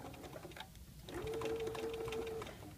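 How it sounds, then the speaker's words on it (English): A sewing machine stitches a 5/8 inch seam to attach a convertible collar, a brief, quiet, steady motor hum lasting about a second after a short pause in a soft room. "you're going to sew a 5/8 inch seam"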